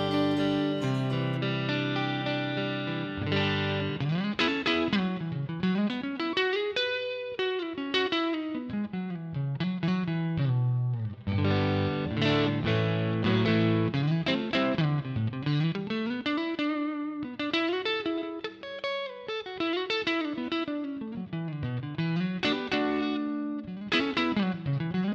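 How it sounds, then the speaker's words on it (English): Clean electric guitar plays melodic chords and arpeggios through a Headrush MX5 small plate reverb, notes ringing out and blending into a smooth, shimmering plate reverb tail. "This is with reverb. All right, so the Verb, MX5 reverb. This is a small plate."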